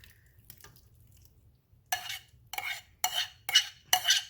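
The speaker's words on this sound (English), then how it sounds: "Alright, I'm just going to add the fish in." Fish and its marinade go into a pot of congee and get stirred, heard as five sharp, close scraping bursts in a steady rhythm after a quiet opening with a faint low hum.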